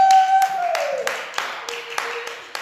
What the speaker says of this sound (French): d'applaudir avec moi, Fiona!